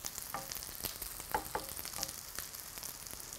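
Korean jeon of tofu, pollock, and perilla leaf with lotus root pan-frying in oil, giving a soft, steady sizzle with scattered small pops and crackles.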